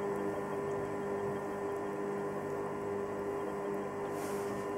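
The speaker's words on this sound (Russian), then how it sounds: "Просто работа вентилятора слышно" A steady, even mechanical whir with a constant tonal hum from the cooling fan of an Electrolux EHH 3920 BOK induction cooktop, running nearby without pause.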